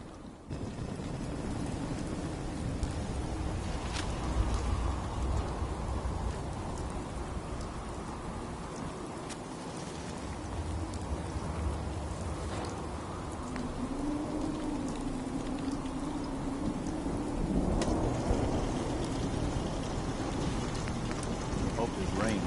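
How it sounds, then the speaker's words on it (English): Rain and thunder in the Fallout 4 video game: steady hissing downpour with low rolling rumbles of thunder swelling beneath it, continuous and moderately loud. "Hope this rain lets up soon."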